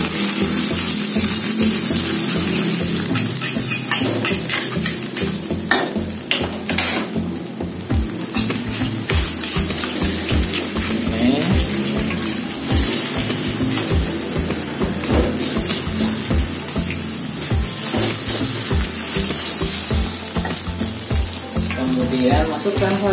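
Egg frying in a pan for a stir-fry of katuk leaves gives a steady, close, hissing sizzle that runs throughout, with occasional clinks and stirring scrapes, faint voice traces under it.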